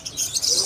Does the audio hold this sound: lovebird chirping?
yes